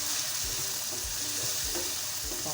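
Tikka-spiced macaroni mixture fries in a pan with a steady, close sizzle, and a few soft low knocks of stirring run underneath.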